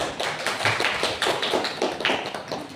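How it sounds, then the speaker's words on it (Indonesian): A room full of people clapping, a dense, lively patter of many hands with no talking. "tepuk tangan untuk kelompok 5"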